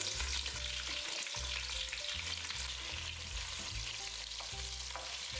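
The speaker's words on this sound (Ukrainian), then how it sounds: "Далі буду викладати реберця і шинку. Стараюся класти жирним вниз." Pork ribs and ham fry in a pan, a steady crackling sizzle of fat with a low rhythmic hum running underneath throughout.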